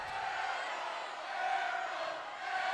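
High school basketball crowd in the Edgewood Mustang gym, a continuous, fairly distant roar of cheering and whooping that swells slightly midway, with no clear single voices standing out.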